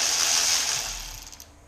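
A ratchet works on the intake bolts of a Honda Prelude, giving a close, bright run of rapid clicking that fades out over about a second, with no talk.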